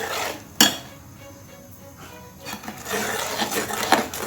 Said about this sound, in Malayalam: അതിൽ നന്നായിട്ട് ഇളക്കി കൊടുത്തുകൊണ്ടിരിക്കണം